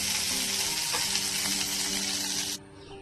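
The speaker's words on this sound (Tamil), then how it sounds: "உப்பையும் போட்டு நம்ம வதக்கிட்டு நிறுத்திடலாம்." Chopped pirandai (adamant creeper) with salt sautéed in a pan gives a steady, loud broadband sizzle that holds evenly for about two and a half seconds, then drops off abruptly into quiet.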